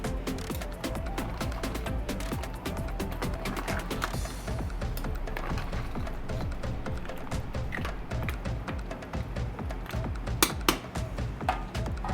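Cassareep and meat are mixed in a bowl for Guyanese pepperpot, with a continuous run of utensil clinks, taps and scrapes against the dish, close and busy throughout.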